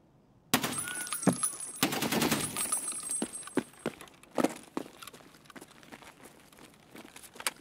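Bursts of automatic gunfire from an Escape From Tarkov firefight, sharp rapid volleys starting suddenly and rattling loudly, then thinning into scattered single shots and distant cracks over a few seconds, with no talking.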